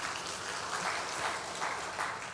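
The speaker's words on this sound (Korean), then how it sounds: "박수 주세요." A church congregation claps during a Sunday service, a brief burst of many hands applauding together at a moderate distance with a slightly uneven pulse.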